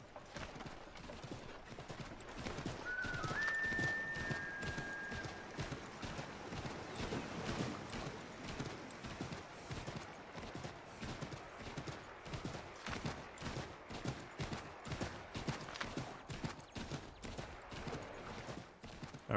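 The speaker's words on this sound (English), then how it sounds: "Let's go and ride the horse there." Horse hooves clip-clopping at a steady riding pace in the frontier of the video game Assassin's Creed III Remastered, continuous rhythmic thuds throughout with a brief whinny early on and faint background ambience.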